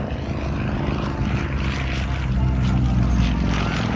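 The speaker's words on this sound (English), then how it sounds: "Now let's watch as Trevor brings the mighty Pitts Model 12 back to center stage." The engine of a Pitts Model 12 aerobatic biplane roars loud and steady through a loop at an airshow, with a droning propeller tone that swells slightly toward the end.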